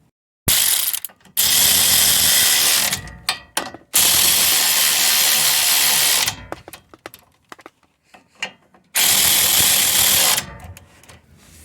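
A power tool spins the bolts down on a 2007 eighth-gen Honda Civic front axle, delivering three long loud bursts of buzzing, ratcheting rattle separated by short pauses and scattered clinks.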